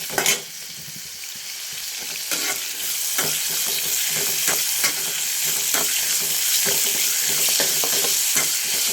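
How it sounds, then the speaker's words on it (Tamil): Onion, chili and tomato sizzle loudly in a hot pan for a chicken gravy, with a steady frying hiss and repeated scraping stirs close by. "இதெல்லாம் போட்டாச்சு நல்லா வதக்கிக்கலாம்"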